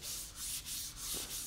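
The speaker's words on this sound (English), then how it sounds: "all the different stages to the super fine sandpaper that he's using now" Super fine sandpaper rubbed along a wooden pool cue at the final sanding stage, a close, steady hiss in repeated back-and-forth strokes with brief dips between passes.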